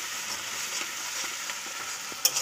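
Freshwater snail curry with onion and potato frying and being stirred in a pan, giving a steady hiss with faint scraping clicks and a brief clatter near the end, no voices.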